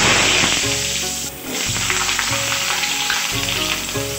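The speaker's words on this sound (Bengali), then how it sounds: "কালো জিরে দিলাম ফোড়ন" Nigella seeds sizzle in hot oil as tempering for a Bengali home-cooked dish, a loud steady frying hiss that briefly dips twice, with low kitchen hum underneath and no talking.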